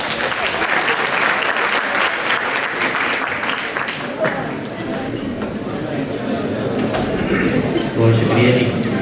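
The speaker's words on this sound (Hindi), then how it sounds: "आपकी भरपूर तालियों में" Loud, dense audience applause at a poetry recital, a sustained wash of many hands clapping that carries on throughout with a few louder swells, close and full.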